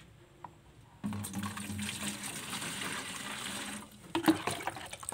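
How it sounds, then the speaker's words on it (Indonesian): Well water poured into a metal watering can, a close, steady gushing splash for roughly three seconds that then tapers off into a few knocks and sloshes, with no talking. "kita ambil airnya kita masukkan ke dalam gembor"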